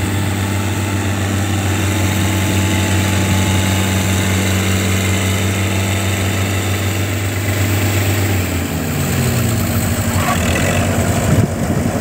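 A Swaraj 843 XM tractor idles during harvesting: a steady, fairly loud engine drone that holds evenly, then shifts pitch and roughens toward the end.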